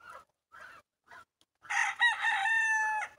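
A young white rooster crows once, close and loud, a long harmonic call after a few short clucking sounds from the bird.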